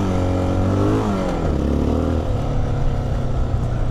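Honda XR650L dual-sport motorcycle engine revving on a rutted off-road trail, a steady loud thumping drone that rises and falls in pitch as the throttle varies, continuous and close throughout.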